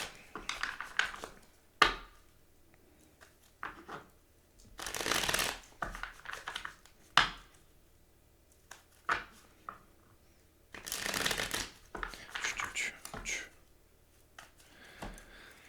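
Tarot cards are shuffled by hand in irregular bursts of riffling and snapping, close and crisp, with quiet pauses between the handfuls.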